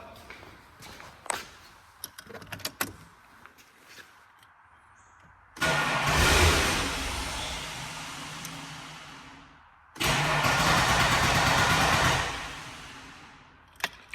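A Holden VT Commodore with the Ecotec engine cranks over in two long bursts of loud starter churning, each running several seconds, with shuffling and clanking of work around the car before and after.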